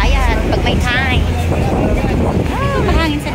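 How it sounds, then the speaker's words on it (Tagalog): Wind buffets the microphone outdoors with a low rumbling roar while someone talks over it. "mahangin sa labas"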